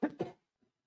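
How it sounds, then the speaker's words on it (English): Two quick, close coughs in a row, fairly soft, followed by a faint small throat sound. "I hope this coughing is not too loud for you"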